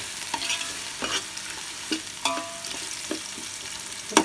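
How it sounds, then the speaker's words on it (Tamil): Onions for chicken biryani sauté in a pot under a soft sizzle, while a spoon scrapes and stirs in short, irregular strokes about once a second, close and fairly quiet. "பொன்னிறமாக வர வரைக்கும் நம்ம வதக்கிட்டே இருக்கணும், இல்லைன்னா பிரியாணி நல்லா வராது"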